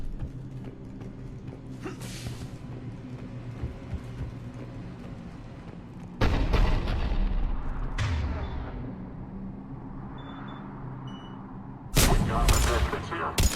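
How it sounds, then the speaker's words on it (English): Heavy cannon fire in the Mass Effect 3 video game sounds as two or three sudden loud booms. Each bursts out of a dense, rumbling battle din and decays into long roaring tails. "Cannon fire is clearing the way."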